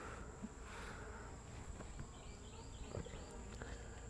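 A faint, steady honey bee buzz hums in the background, with soft scattered taps and rustles; no voices.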